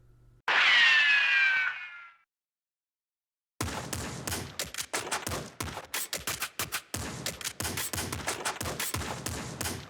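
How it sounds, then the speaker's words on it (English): Gunfire in the top-down shooter game Nuclear Throne: a rising synthetic whoosh, a brief pause, then sustained rapid volleys of loud shots in dense, uneven bursts. "Whoa, that is a lot of shooting"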